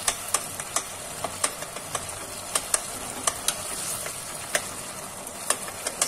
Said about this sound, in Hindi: इसको मैं एक चमचे की हेल्प से अच्छे से मैश कर लूंगी।